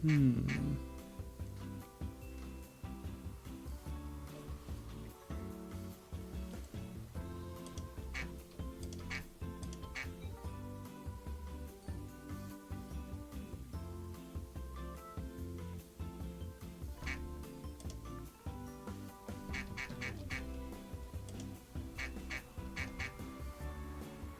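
Ducks quack repeatedly in a video game from a charity game bundle, mixed under a steady music track with clicky ticking sounds throughout.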